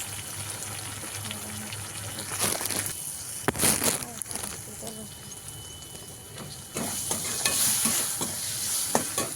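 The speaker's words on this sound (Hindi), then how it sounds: "मसाला भूज रहा है" Masala spices roasting in a pan with salt give a close, continuous sizzle, with stirring scrapes, bursts of splashing or pouring noise in the middle and toward the end, and some background voices.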